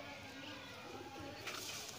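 A pigeon, a large breeder bird, coos faintly near a rooftop net trap, with soft low calls over a quiet background hum.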